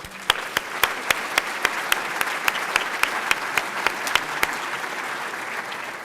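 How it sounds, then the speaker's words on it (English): Attendees at a national engineering academy annual meeting conference applaud: a soft bed of crowd clapping with a series of sharper, regularly spaced nearby claps standing out on top. "Could you join me in a round of applause for all of them?"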